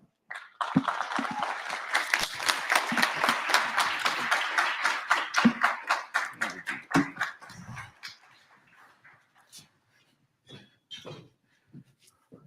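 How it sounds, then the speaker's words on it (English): Audience applause welcoming an award recipient to the stage at a university distinguished entrepreneur event: dense clapping swells, holds for several seconds, then thins to scattered individual claps and light murmuring before fading out. "please welcome him with your applause to the stage"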